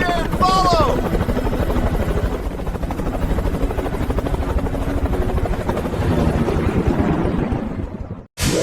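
Helicopter in Microsoft Flight Simulator 2024: a steady, loud rotor thrum with rapid blade chop runs continuously, a short chirp near the start, then cuts off abruptly near the end.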